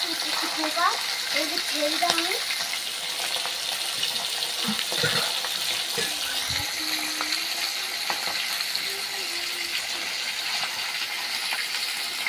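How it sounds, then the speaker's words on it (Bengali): Fish sizzling and frying in a pan, a steady broadband hiss with occasional clinks and stirring, while someone talks over the cooking. "এখানে মাছ ভাজা হচ্ছে।"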